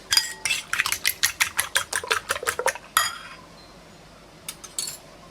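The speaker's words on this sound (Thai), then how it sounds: "ตีไข่ให้เข้ากันนะคะ" Eggs beaten with a utensil in a bowl, a quick regular run of about a dozen clinking strokes, then a pause and a couple of lighter taps, close and clear.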